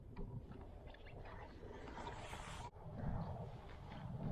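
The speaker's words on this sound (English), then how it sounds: "That wind is ripping, man." Strong wind buffeting the microphone on a lake during a canoe fishing trip, a constant loud roaring rush that briefly drops out and then surges back.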